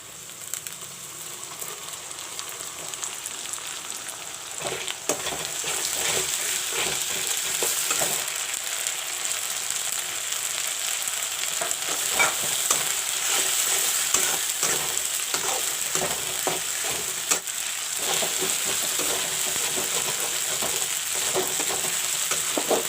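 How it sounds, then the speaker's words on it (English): Ginger garlic paste frying with golden-brown onions in a pan, a steady close sizzle with crackling and frequent stirring scrapes throughout, no talking. "The ginger garlic paste is fried a bit."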